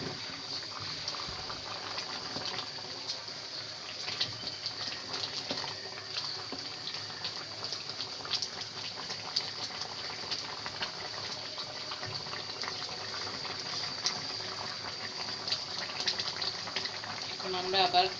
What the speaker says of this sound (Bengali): মাঝারি আঁচে সিদ্ধ হওয়া পর্যন্ত আমরা রাখবো